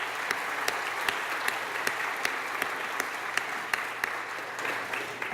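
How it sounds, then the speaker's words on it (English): Applause from the audience at a Teacher of the Year awards banquet, a steady crowd clapping with a few sharp individual claps standing out close by. "If we could give them a round of applause."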